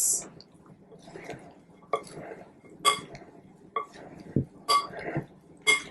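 A spoon stirs a bean soup mix salad in a bowl, giving scattered clinks and knocks against the dish with soft wet squishing between them.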